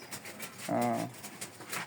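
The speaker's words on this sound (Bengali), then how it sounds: "বন্ধুরা দেখতেই পাইতেছেন অনেক কবুতর একটা ঘরের ভিতরে আবদ্ধ করে রাখা" A single soft coo rises mid-clip from pigeons, including blue-white and black-spotted birds, kept inside an enclosed loft on a pigeon farm, with faint background rustle before and after.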